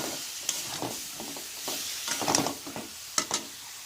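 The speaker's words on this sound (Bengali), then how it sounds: "হলুদ গুঁড়ো দিয়ে আবারও ভালো করে মশলাটাকে কষাবো" Spice paste with turmeric powder fries in a pan for a cauliflower and fish curry, a soft sizzle broken by scraping stirring strokes, close and fairly quiet.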